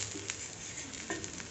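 Half an onion fries in a little oil on a dosa pan, giving a quiet, steady sizzle with a few soft crackles and pops.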